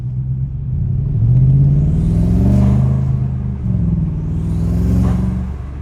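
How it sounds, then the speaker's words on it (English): A tuned 650 hp twin-turbo Audi S7 engine drones and rises in pitch as it revs, with a faint whistling turbo whoosh swelling twice over the rumble. "You can really hear the turbo spooling."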